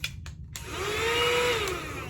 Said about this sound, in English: This is a little vacuum. It's got a USB port where you can charge it up.